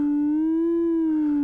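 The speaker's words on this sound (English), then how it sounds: "So here is our sine wave" A steady sine wave tone from a Verbos Complex Oscillator synthesizer, held alone at constant loudness with a slight rise and fall in pitch.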